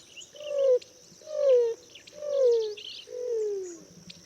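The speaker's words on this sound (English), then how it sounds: "The most frequent call is a slow and descending sequence of about 6 low cooing noises emitted by the male." A male greater roadrunner gives a slow series of four low, descending cooing notes, each drawn out and evenly spaced, fairly close and clear against a quiet background.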